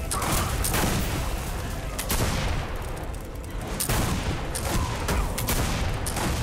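Rapid turret gunfire from the video game Wrath of Heroes crackles in dense, loud bursts that run almost unbroken, with a brief lull near the middle, and no voice over it.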